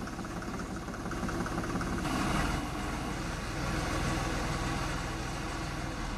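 A tractor engine runs steadily at close range with a sanitizing sprayer machine mounted on it, on city streets in Chandigarh during a sanitization drive. The low, continuous drone swells slightly partway through and stays loud, with no talk.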